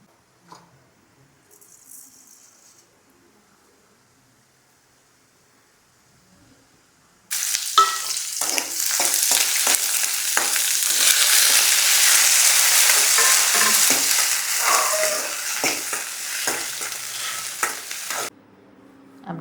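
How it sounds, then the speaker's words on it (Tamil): Onions and tomatoes fry and are stirred in a pan, bursting into loud, steady sizzling with scraping spatula strokes after a quiet opening, then cutting off near the end. "நம்மளும் இந்த வெங்காயம் தக்காளியெல்லாம் வணக்கி விட்டுடலாம்."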